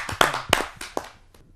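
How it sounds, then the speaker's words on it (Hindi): A handful of scattered hand claps greet a poet at a Hindi kavi sammelan, a televised poetry gathering. Several sharp, separate claps sound close and fairly loud, then thin out and fade. "आइए जोरदार तालियों से स्वागत"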